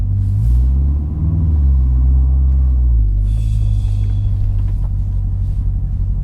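A 2019 Chevy Corvette with only 800 miles and a fault that pops it out of first gear gives a loud, steady low engine rumble from inside the car as it drives along.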